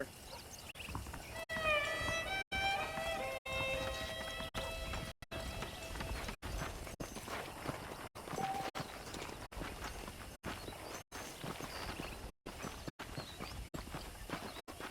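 Steady clip-clop of horse hooves walking at an even pace in Red Dead Redemption, with a brief whinny early on, all fairly quiet.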